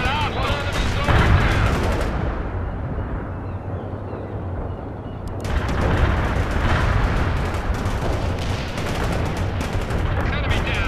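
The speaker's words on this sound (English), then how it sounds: "Bradley returning fire at hostile enemies" Bradley APC and infantry trading gunfire in the World in Conflict war game, with loud sustained bursts of automatic fire and booming shots, a brief lull, then renewed heavy firing under shouted radio-style voices.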